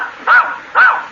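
A dog answers an arithmetic question with two short, loud barks about half a second apart, close by, with no talking over them.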